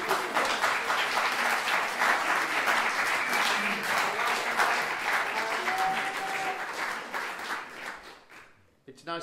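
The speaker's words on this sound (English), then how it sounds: "Give them a round of applause." Concert audience at Hump Hall applauding a folk duo, a full, steady roar of clapping that holds for several seconds before thinning out and fading near the end.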